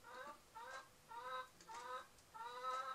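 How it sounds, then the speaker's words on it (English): A pet chicken clucks in three short, evenly spaced bursts of harmonic calls, fairly close and moderately loud, with no talking. "That's our chicken."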